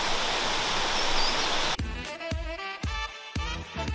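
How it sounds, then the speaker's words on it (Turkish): A waterfall in Bursa gives a dense, even hiss of falling water for under two seconds before it cuts abruptly to other, unrelated sounds. "Şu anda şelalenin olduğu bir yerdeyiz."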